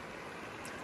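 A Sawtooth Mountains stream slides over rock like a natural water slide into a pool, a brief, steady, close rushing wash.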